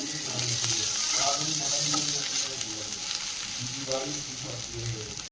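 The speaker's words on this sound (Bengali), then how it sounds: "পটল চিংড়ি রান্না করার জন্য পটলটা আগে ভেজে নিচ্ছি" Steady hissing sizzle of pointed gourd frying in hot oil, close and continuous, with faint clinks and stirring sounds underneath.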